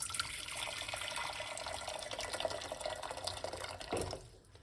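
Hot water pours steadily into a pot for cerasee tea with a continuous splashing rush, close up, then tapers off at the end.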